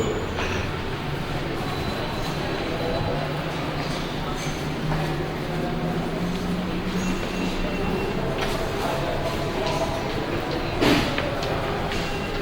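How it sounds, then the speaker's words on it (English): Subway train in an underground station: a steady, loud rumble of the train throughout, with a brief sharp screech near the end and faint voices in the background. "Yeah, this is the train line."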